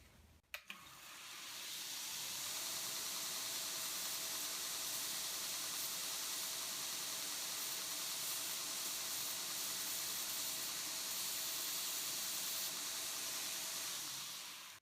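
A machine spins up with a brief thump and runs as a steady, close hissing whine while a chamfer is ground onto an edge during knife-making bevel jig work, holding constant for about fourteen seconds before cutting off.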